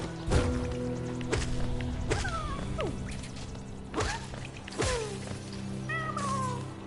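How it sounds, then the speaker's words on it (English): A cat meows repeatedly in a corner beside a door, several rising and falling calls spread through the clip over a steady low hum and a few thumps. "my cat goes in that corner by the door and just starts meowing"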